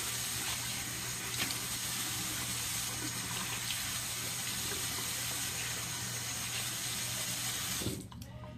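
A kitchen tap runs steadily into a sink for several seconds, a constant close rushing splash that cuts off abruptly near the end.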